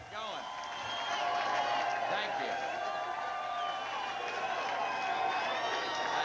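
Crowd in Houston applauding and cheering President Bush on election night 1992, a steady roar of clapping and voices with talk over it throughout.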